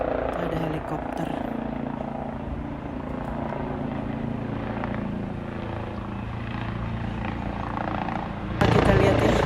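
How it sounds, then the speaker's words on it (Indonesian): A police helicopter passes overhead near a waterside spot in Zoetermeer, a steady distant rotor drone holding throughout at moderate loudness, with people talking nearby. "Ada helikopter."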